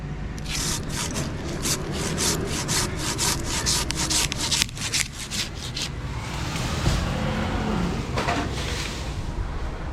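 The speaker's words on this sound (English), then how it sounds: "I'm just gonna cut this off with my handsaw." Handsaw cutting a tree branch, with quick, rhythmic back-and-forth rasping strokes up close for about six seconds before the sawing slows and fades into softer rubbing.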